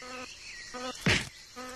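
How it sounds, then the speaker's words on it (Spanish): Wasp buzzing close by a newly emerged cicada whose wings are still soft, a short insect drone that rises and falls in brief bursts with one sharp louder flutter in the middle. "La avispa parece estar decidida a hacer notar su presencia."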